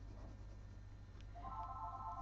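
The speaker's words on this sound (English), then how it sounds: "that's my phone ringing" A phone rings indoors, a steady electronic warble that starts partway through and carries on to the end, moderately loud over a low constant hum in a quiet room.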